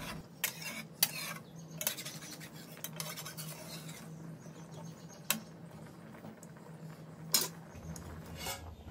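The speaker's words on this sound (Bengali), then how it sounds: "একটু নাড়াচাড়া করে নেব।" A spoon scrapes and clinks against a pan while bottle gourd and shrimp curry is stirred, irregular metallic knocks over a steady low simmer, close and clear with no talk.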